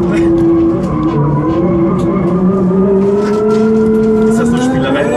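The Hyundai RN22E's engine climbing steadily in pitch as it accelerates, with a brief dip at a gear change, loud and close inside the car while people talk over it.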